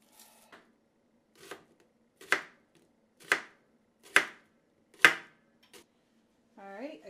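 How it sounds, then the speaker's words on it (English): Onions are sliced into half rings on a cutting board, a series of about six sharp, separate knife chops in an uneven rhythm, close and clear, ending as a voice begins. "Alright, I got my onions sliced up."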